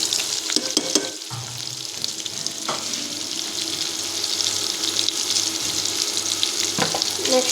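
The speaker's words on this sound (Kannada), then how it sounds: "ಈಗ ಉಳ್ಳಾಗಡ್ಡೆ ಜೊತೆನ ತರಕಾರಿ ಎಲ್ಲ ಹಾಕ್ಬಿಡ್ತೀನಿ. ಫ್ರೈ ಆಕೈತಿ." Onions frying together with crushed beans, carrot and beetroot, a steady loud sizzle with a low hum beneath and a few stirring clinks and scrapes near the start and end.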